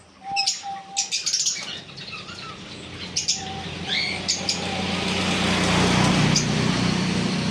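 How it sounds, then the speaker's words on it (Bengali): Black Java sparrows in a bird shop, with a burst of close, bright chirps and tweets over the first few seconds, then fewer calls as a broad, rising hiss of shop noise fills the rest. "দোকানে এই পাখিগুলো আছে ব্ল্যাক জাভা ব্ল্যাক জাভা"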